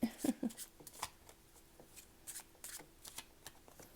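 A deck of Lenormand cards being shuffled by hand, with crisp riffling bursts near the start and softer intermittent card flicks and slides after, close and fairly quiet.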